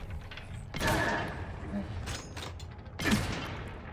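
Gunfire in The Outer Worlds 2, with two heavy, booming bursts about two seconds apart over a busy game background.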